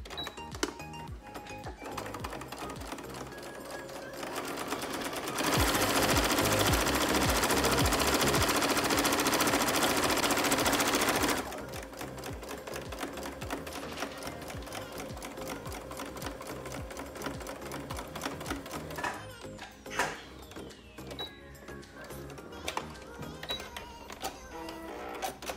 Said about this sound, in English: we're gonna sew right along that edge